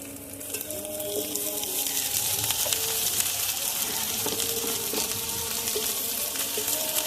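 Crushed garlic fries with chopped onions in hot oil, a steady close sizzle that builds after the first second and continues with light stirring scrapes and clinks.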